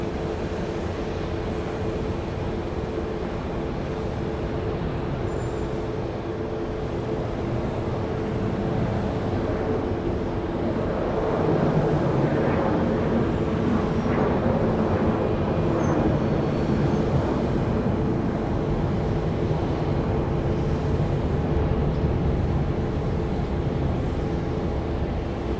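An airliner takes off at Dallas Love Field on a flight bound for Midland, Texas. Its steady broadband roar, heard from a distance, swells about halfway through and stays loud and sustained to the end.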